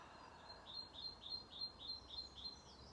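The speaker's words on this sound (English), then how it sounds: "Birds are amazing though, right?" A small bird outdoors gives a quick series of about eight high, thin chirps in a steady rhythm, faint and somewhat distant over quiet background hiss.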